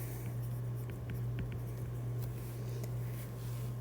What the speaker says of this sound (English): Whoops, that's my highlighter.